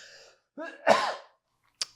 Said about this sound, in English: I am currently holding in a cough.